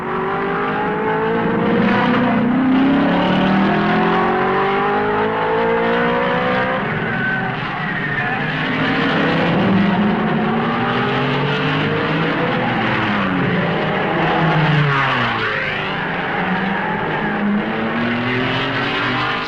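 1955 Formula One cars at the Belgian Grand Prix, Spa-Francorchamps, braking hard from over 100 mph into the La Source hairpin, engines roaring and downshifting with falling and rising whines as several cars pass in succession, loud and continuous.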